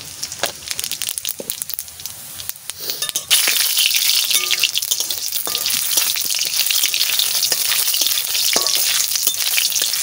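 Dry red chillies and whole cumin seeds hit hot oil in a pan, a sudden loud burst of sizzling that stays steady and crackling after quieter stirring clatter.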